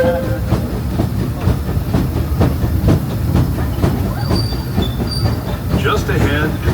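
The Disneyland Railroad train runs on its rails at Disneyland Park with a loud rumble, rhythmic clickety-clack and thumps over joints, and wheel squeals near the end. A faint voice speaks under the noise.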